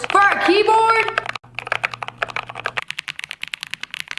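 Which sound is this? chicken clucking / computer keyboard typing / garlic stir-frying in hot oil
computer keyboard typing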